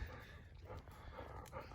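A farm dog barks in faint, scattered bursts, heard from some distance against a quiet background.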